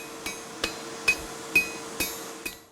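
A blacksmith's hammer striking an anvil at a forge rings out in six evenly spaced, bright metallic blows, each leaving a short ringing tail, close and clear with no talk.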